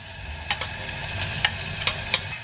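Washed and drained rice sautés in butter in a pot, giving a soft steady sizzle broken by a few light clicks of stirring, close and fairly quiet.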